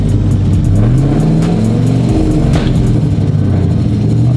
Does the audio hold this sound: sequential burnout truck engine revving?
yes